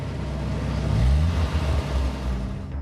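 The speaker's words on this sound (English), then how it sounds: "You could hear the engine just make the noise of when somebody has pushed the accelerator to the floor" Car engine revving hard with the accelerator floored in the desert, a low swelling roar that rises near the middle and then settles into a steady drone.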